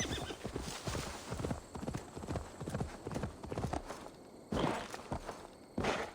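Horse hooves clopping in Assassin's Creed Valhalla, a steady rhythmic clip-clop of galloping hoofbeats close up, with occasional snorts or whinnies and brief louder bursts near the end.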